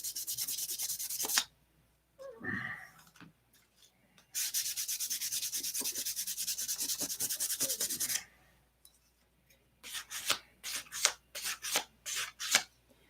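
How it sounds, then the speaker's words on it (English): A plastic scale model is sanded by hand. Long, loud, rasping scrubbing strokes alternate with pauses, and a burst of short quick rubs comes at the end. "You don't want to sand it all off."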